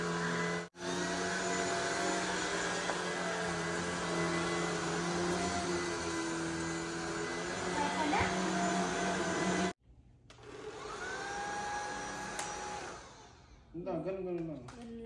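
A vacuum cleaner drones loudly with a high whine, cuts off briefly, then restarts, its pitch shifting, with voices talking faintly underneath.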